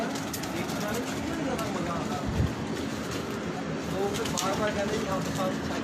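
Pigeons in a loft coo softly amid background murmur, with low throaty calls and faint bird chatter under a steady ambient hum, and a person speaking nearby.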